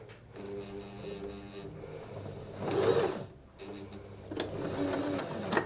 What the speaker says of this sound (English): And then we're ready to start sewing.